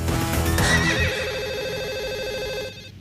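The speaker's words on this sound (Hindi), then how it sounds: "तभी अचानक फ़ोन की घंटी बजती है।" A telephone rings in a tense drama scene, a sustained electronic ringing tone that holds steady for a few seconds at moderate loudness before cutting off, with a brief burst of other sound at the start.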